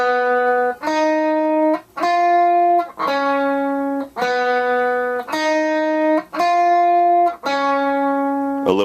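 Lead guitar finger roll exercise with forward and backward rolls: eight clear, evenly spaced sustained notes ring out in a steady rhythm, each melodic and slightly overdriven, close and alone without talk.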